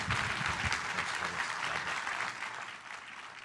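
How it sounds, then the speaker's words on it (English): A room full of people applauds Dr. Oz and his team at a health technology anniversary event, dense, loud clapping sustained for several seconds and easing slightly toward the end. "join me in a round of applause for Dr. Oz and his team"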